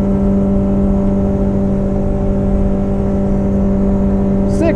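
A boat with a Yamaha 115 outboard motor runs at full throttle on a 1987 Arima SeaChaser 17, a loud, steady engine drone with a strong low hum that holds at a constant pitch throughout.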